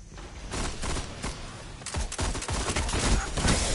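Video game gunfire in a multiplayer shooter: repeated sharp shots and bursts, some rapid and clustered, crackling through a busy mix at moderate volume with no pauses.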